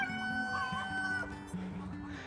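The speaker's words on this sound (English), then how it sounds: "And he's just a crowing." A homestead rooster crows in a short, fairly faint burst while chickens cluck around it in a brief, busy farmyard moment.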